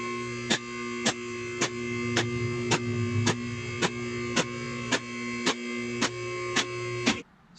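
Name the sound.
vehicle lift raising a 1963 VW Beetle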